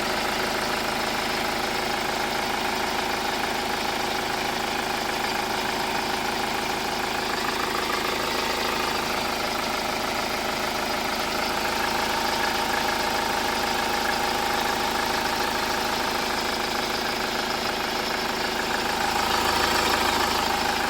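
A Hyundai Starex van engine idles steadily with a smooth, even hum and low rumble, continuous throughout with no voices.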